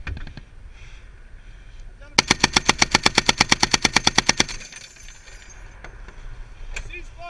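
A Humvee-mounted machine gun fires a loud, rapid burst of about twenty evenly spaced shots during a simulated Army training exercise, with background rumble and brief voices before and after.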